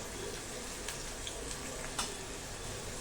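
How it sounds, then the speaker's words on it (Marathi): Grated coconut roasts in a hot oil tempering for aluchi bhaji, giving a steady, quiet crackling sizzle with a few faint ticks and spatula taps close by. "फोडणीत घालायचं आहे हे बघा खोबरं अगदी छान थोडंसं परतायचं"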